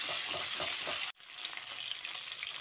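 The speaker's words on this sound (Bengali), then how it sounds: "এইভাবে মাছটা উল্টে পাল্টে ভালো করে ভেজে নিতে হবে" Pieces of carp-type fish fry in oil, a dense close sizzle broken by a sudden short cut-off as a piece is turned, then the hissing resumes and builds again.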